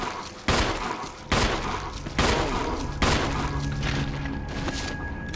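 Gunfire in the video game Resident Evil 2: four heavy, booming shots spaced roughly a second apart, loud and close, each ringing out over a dark ambient game backdrop.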